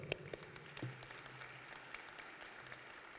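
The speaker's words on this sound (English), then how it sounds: "Let's give you guys a round of applause." Applause from a commencement ceremony audience, a faint, steady patter of clapping heard from a distance with a few sharper claps near the start.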